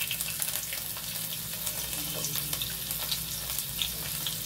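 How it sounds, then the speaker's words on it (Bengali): Chopped garlic hits hot oil in a wok with a steady, close sizzle and crackle that carries unbroken from start to end, no voices over it. "দিয়ে দিলাম রসুন কুচি"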